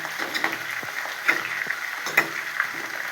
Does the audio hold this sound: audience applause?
no